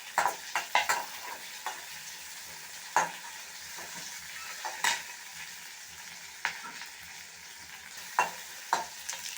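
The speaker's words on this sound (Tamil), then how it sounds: "நல்லா ஆனியன் கொண்டு செவக்கட்டும்." Onions sautéing in a pan for carrot chutney, a soft steady sizzle broken by scattered sharp scrapes and taps of a stirring spoon against the pan, quiet and close with no talking.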